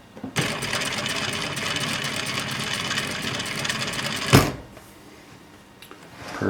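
A sewing machine stitching a seam on binding runs steadily for about four seconds with a rapid mechanical whir, then stops with a sharp click, leaving quiet room noise.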